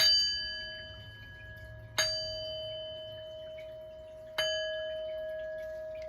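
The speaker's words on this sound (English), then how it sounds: "So I'm gonna ring the bell 3 times as we normally do, and we are going to begin this reading" A bell struck three times to open a tarot reading, each clear, ringing strike spaced about two seconds apart and left to decay slowly, with no talk.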